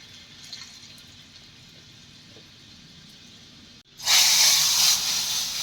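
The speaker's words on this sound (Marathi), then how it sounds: "एक नंबर फोडणी लागते वरून टाकलेली" Quiet background, then a sudden loud sizzle as hot garlic and asafoetida tempering is poured over cooked chakvat greens, a bright hissing crackle that continues strongly to the end.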